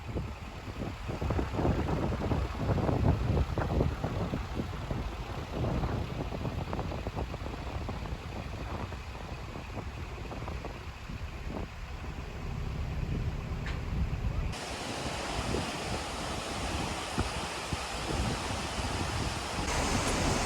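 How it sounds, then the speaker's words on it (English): Water rushing out of a large lock on the River Trent, a steady loud broadband roar like surf that holds throughout, with a sudden shift in tone partway through. "As we let the water out of the lock"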